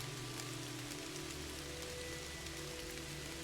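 Steady rain falls in the video game Kathy Rain, a constant dense hiss of drops on surfaces with faint low tones underneath, soft and unbroken throughout.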